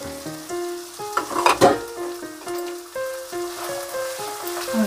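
Green peas and mushrooms sizzle steadily in a pan for a home-style mushroom curry while being stirred, with scraping spoon sounds over the frying and a music track playing along, no voices.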